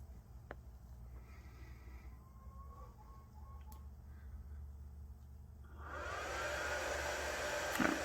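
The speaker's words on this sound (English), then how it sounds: "you can hear the pump running" A Grundfos solar water pump running on a CU200 controller gives a steady, faint mechanical hum that grows louder and fuller near the end. No one speaks.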